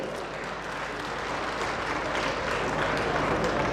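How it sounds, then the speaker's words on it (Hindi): Audience applause at a government ceremony launching the Viksit Bharat Sankalp Yatra, a continuous roar of many hands clapping that swells slightly toward the end, with a bit of murmuring underneath. "एक बार तालियों की गड़गड़ाहट आप सबकी तरफ से मिलनी चाहिए।"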